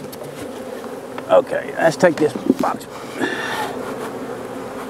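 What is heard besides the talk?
honey bees buzzing around hive box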